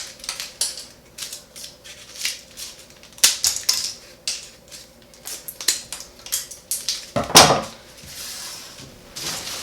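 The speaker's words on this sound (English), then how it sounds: "I'm going to cut all my pieces of string short." Scissors snip through short pieces of string in a run of quick, close, uneven cuts and clicks, with a louder crunching snip near the end and no talking.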